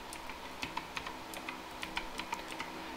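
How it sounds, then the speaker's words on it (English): Computer keyboard typing in a home setting while entering a search, a quick irregular run of light clicky keystrokes, close and fairly soft, with no voices. "just type Netflix here"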